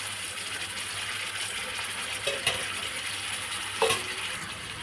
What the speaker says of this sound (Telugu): అల్లం పేస్ట్ వేస్తున్నాను.